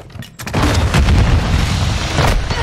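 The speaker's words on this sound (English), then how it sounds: "Airstrike in the AO." Airstrike explosions in Call of Duty: Modern Warfare II, a loud, sustained roar of deep booms and rumbling blasts that swells after a brief lull and keeps churning for the rest of the moment.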